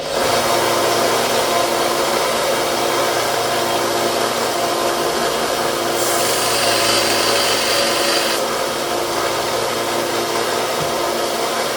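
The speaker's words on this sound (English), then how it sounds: "So we're going to sand that all the way down." Sanding down the pin of a Case XX Stockman pocket knife with a power sander, a steady loud whirring grind that holds throughout with a brief brighter, harsher stretch midway.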